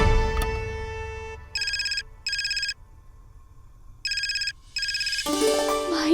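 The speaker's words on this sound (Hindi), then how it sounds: "माई का फोन।" A mobile phone ringtone plays in a scene from the Hindi TV drama Gehna Zevar Ya Zanjeer, several short bursts of a bright repeating tune with pauses between, fairly clear over a quiet background before music swells at the end.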